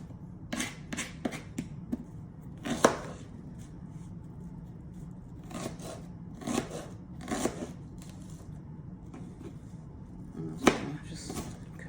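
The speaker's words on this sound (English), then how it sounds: "Just cut this onion on up" Knife cutting through half of a medium onion on a board for tuna salad, a run of sharp, irregular chops and taps standing out alone over a low background hum.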